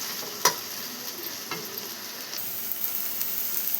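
Green chilli paste stirred into a potato fry in a pan, giving a soft continuous sizzle with an occasional sharp clink of the spoon near the start, fairly quiet and without talk.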